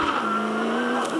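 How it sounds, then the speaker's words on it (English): A V8 Supercar leaves the pit lane at the 2006 Perth 400 race, its engine holding a loud, steady drone close by with only a slight change in pitch. "This is the departure of Lowndes, and here he is with Paul Morris"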